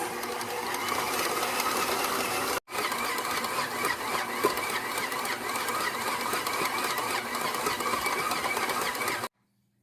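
A stand mixer kneads steamed bun (bao) dough at higher speed, giving a loud, steady mechanical whir that cuts out briefly once, resumes, then stops near the end.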